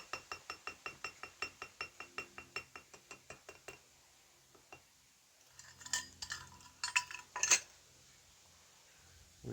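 Chimichurri sauce ingredients stirred together in a bowl with a utensil: a quick, steady run of clinking taps, then a pause before a looser burst of clattering scrapes, all close and with no voices.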